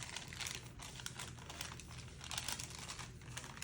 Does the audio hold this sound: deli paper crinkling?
yes